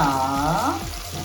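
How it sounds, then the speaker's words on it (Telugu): Cashews and frozen green peas fry in a pan for a home-made brown basmati veg biryani, giving a steady, close sizzle with faint watery crackle, no voices. "కొంచెం కాజు, ఫ్రెష్ మటర్ అనమాట, ఫ్రోజన్వే. ఇవన్నీ వేసి కొంచెం వేయించిన తర్వాత"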